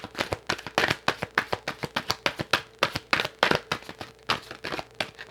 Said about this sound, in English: I'm going to shuffle 1 more time just to see if they have anything else to add to it.